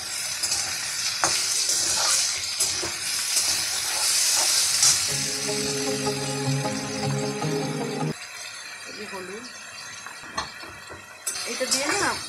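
Potatoes with brahmi greens and green chili fry in a pan with a steady hiss and sizzle that fades toward the end, while a voice talks over the cooking.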